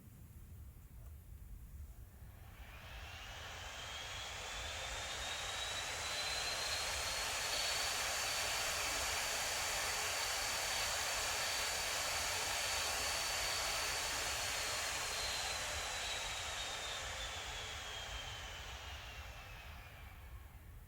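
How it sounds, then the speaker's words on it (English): Cooling fans of a Xiaomi Mi Gaming Laptop (15.6-inch, i7-9750H, RTX 2060) under heavy gaming load: a steady, loud broadband whoosh that swells up over a few seconds, holds with a faint rising whine, then eases slightly, with no talk. "when heavy tasking, such as games and heavy editing begin, the system noise rises up to 60 decibels"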